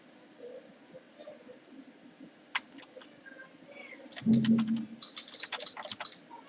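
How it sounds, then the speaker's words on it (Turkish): Opera GX web browser interface sound effects play through a speaker, a run of short clicky keyboard-like taps and bright chimes that grow denser and louder toward the end, with no talking. "Tarayıcı sesleri."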